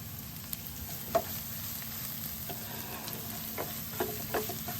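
Minced green chili and curry leaves sizzle in hot oil for a bitter gourd pickle, making a continuous close hiss with faint scattered pops and no talking.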